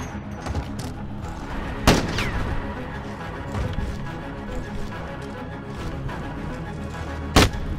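Gunfire in Call of Duty Modern Warfare, a loud close shot and scattered distant rattling bursts over a busy game soundscape, with a second sharp shot near the end.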